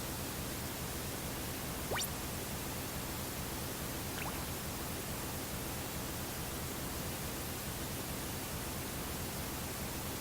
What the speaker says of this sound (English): This white noise is very soothing.